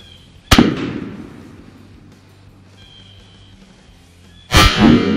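Two loud, sharp rifle shots fired with 180 grain bullets at a target range about four seconds apart, each a sudden blast with a short decaying tail, and quiet outdoor air between them.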